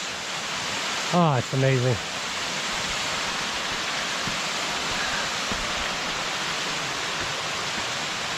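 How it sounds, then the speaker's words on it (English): Tuscarora Falls, a 47-foot waterfall at Ricketts Glen, roars as a constant broadband rush of falling water close by, with a man briefly exclaiming over it near the start. "we're here at Tuscarora Falls, 47 feet"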